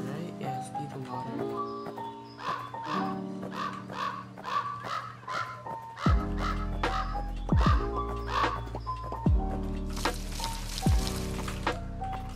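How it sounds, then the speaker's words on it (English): Crows caw in short repeated bursts in the video game Pumpkin Panic against background music and a rhythmic clopping, with brief rain-like hiss toward the end. "Where's the crow coming from?"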